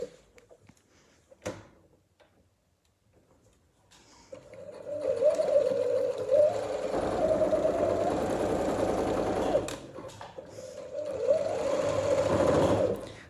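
A sewing machine stitches the side seam of a kimono, running over pins in two long, steady whirring bursts with a short pause between them, close and clear.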